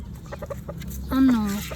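A rooster gives a few short clucks, then a louder drawn-out call close by, with a voice faintly underneath.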